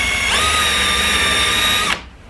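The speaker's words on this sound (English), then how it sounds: "I'm going to go ahead and drill these holes out real quick, drill these plastic rivets out" A power drill with a 3/16 bit bores out aluminum rivets on a Chevy Equinox front license plate bracket, one loud, steady high whine lasting under two seconds before cutting off sharply, close and alone.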